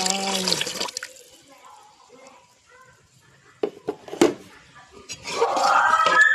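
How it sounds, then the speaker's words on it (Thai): Fish stock is poured into a pot of Thai khanom jeen curry sauce, giving a brief, close liquid splash and gurgle. Quieter stirring and clatter follow, then a louder burst of sizzling and pouring near the end. "เติมน้ำต้มปลาลงไป"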